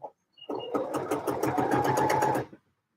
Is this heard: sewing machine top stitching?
yes